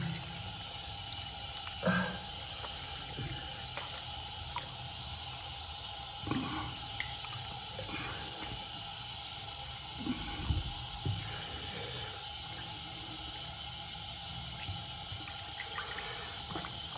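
Cold water running from a bathroom tap after a straight razor shave, a steady hiss of flowing water with a few soft splashes and knocks mixed in.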